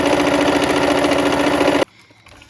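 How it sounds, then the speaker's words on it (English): A sewing machine runs steadily, stitching quilt strips together with a fast, even mechanical hum and rattle, close and loud, then cuts off abruptly, leaving near silence. "Okay, and we are sewing our strips together."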